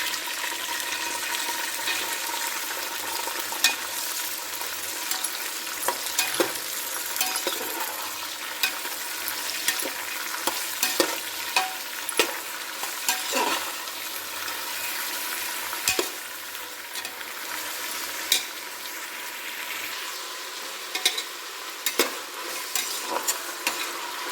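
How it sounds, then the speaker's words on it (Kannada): Eggplant and peas frying in hot oil while stirred, a steady loud sizzle running throughout with scattered spatula scrapes and clicks against the pan, no voices. "ಸ್ವಲ್ಪ ಬದನೆಕಾಯಿ ಬಟಾಣಿ ಎಲ್ಲ ಹಾಕಿ ಎಣ್ಣೆ ಸ್ವಲ್ಪ ಫ್ರೈ ಮಾಡ್ಕೊಳ್ಳೋಣ"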